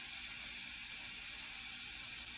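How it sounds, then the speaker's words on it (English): An Instant Pot vents steam while cooking black beans, a steady loud broadband hiss that stays constant throughout, close by, with no talking. "I'm going to release the steam. You can hear it releasing."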